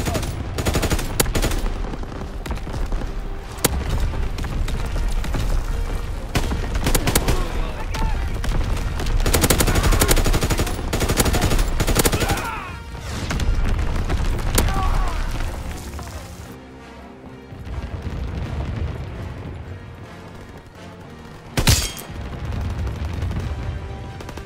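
Artillery barrage killstreak in Call of Duty WWII pounding away in dense, sustained volleys of booming blasts and rattling gunfire, with radio-style voice callouts layered over the loud, continuous battle din.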